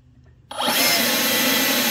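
An AiDot Enhulk 930 leaf blower kicks from near silence into full throttle, its loud, close airy roar rising quickly into a steady high whine.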